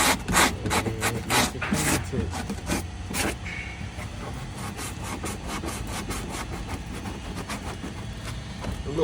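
Scrubbing spilled paint off a Hellcat wheel rim being fitted to a Scat Pack Charger, heard as steady close rasping and rubbing strokes, busier and louder at the start and continuing evenly throughout.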